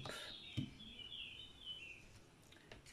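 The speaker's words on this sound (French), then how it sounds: "Ça fait du bien d'entendre les oiseaux." Birds chirping and calling outdoors, a soft high warbling song drifting in and out at moderate distance over faint background noise.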